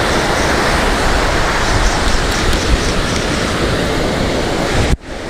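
Surf breaks continuously on the beach at Muriwai, New Zealand, a loud, dense wash of ocean waves with wind buffeting the microphone, cutting off abruptly near the end.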